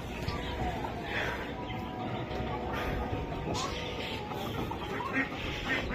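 Guinea fowl in a mini zoo keep up a dense, continuous stream of harsh clucking calls, with other poultry sounds mixed into a busy, steady level throughout.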